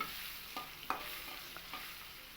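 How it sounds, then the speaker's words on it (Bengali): Potatoes with salt and turmeric frying in mustard oil, a steady hiss of sizzling with a few soft stirring clinks and scrapes, close and moderately quiet. "তেল দিয়ে আমি তেলের মধ্যে আলুগুলোকে দিয়ে দিয়েছি।"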